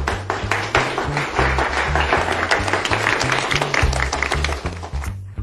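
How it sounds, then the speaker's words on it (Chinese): Dense, steady applause from a workplace audience welcoming a visiting general manager, with many hands clapping for about five seconds over a low, rhythmic musical backing. "让我们大家以最热烈的掌声欢迎张总经理的大驾光临。"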